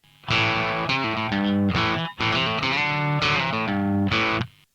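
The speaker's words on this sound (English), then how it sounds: "Dialing in a little bit of overdrive will give you some warmth and bite" An electric guitar with mild overdrive plays a short phrase of chords and notes, warm with a slight bite, sustaining between brief gaps.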